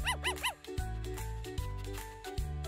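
A puppy in an animated children's story gives three quick, high yips right at the start, then music with a steady beat carries on without further barking.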